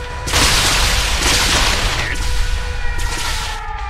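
Truck bomb detonating in the StarCraft 2 video game, a loud sustained rumbling blast with crackling debris that fills nearly the whole stretch, continuing at steady volume to the end.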